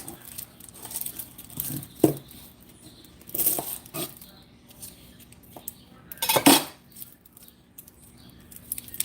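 A knife cuts a small onion on a board in a home kitchen, giving a few sharp, scattered chops and crisp slicing sounds with quiet pauses between them.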